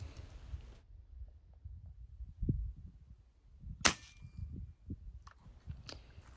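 A BB or pellet air gun fired over a chronograph, one sharp, loud crack in the middle among soft low thumps and handling noises.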